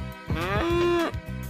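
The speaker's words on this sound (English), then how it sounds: "Cow." A cartoon cow gives a single drawn-out moo, loud and close, rising then holding steady for about a second amid light background music.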